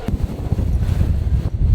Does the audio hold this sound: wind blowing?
yes